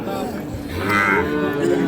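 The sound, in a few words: cattle mooing at a cattle market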